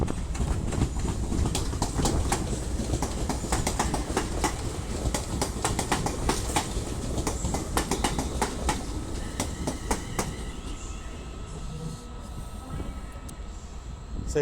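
A train rolls through Crewe station on the West Coast Main Line, with a continuous rumble and rapid clickety-clack of wheels over rail joints for about ten seconds before the passing sound thins out.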